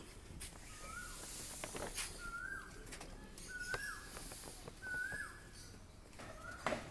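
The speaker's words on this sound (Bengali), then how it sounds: "এই যে একটা পায়রা, এক সেট লক্কা, এরা বসে আছে" Fantail pigeons resting at a breeding loft coo quietly in a series of short repeated calls, faint and somewhat distant, with light rustling between them.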